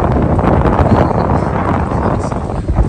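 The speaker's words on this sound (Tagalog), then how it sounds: "Mahangin kasi." Gusty, cold wind buffets the microphone outdoors in Japan with a loud, continuous low rumble that swells and dips throughout, with no clear voices.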